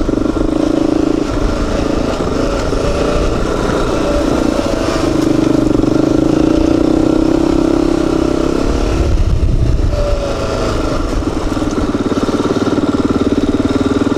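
An ATV engine runs steadily on an icy, jagged rocky offroad park trail, loud and close, with a continuous droning idle and rev that swells and dips, plus some rattling clatter.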